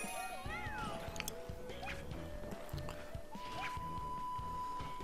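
A cartoonish cat meows in the Super Mario 3D World game, with bright chiming effects and a steady looping music track running underneath throughout.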